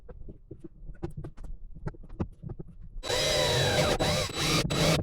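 A power drill drives screws into a shelf inside a truck camper, starting with a loud, sustained whirring burst partway through. Light knocks and handling clicks come before it, and the drilling stays steady to the end.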